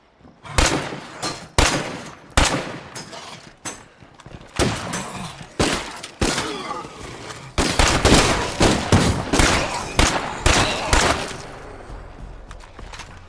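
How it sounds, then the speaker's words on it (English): Loud gunshots from weapons in State of Decay 2, sharp booming reports spaced out at first, then quickening into rapid clusters of fire with echoing tails, close and without talk. "Oh, you also wanted to hear guns? So here's guns."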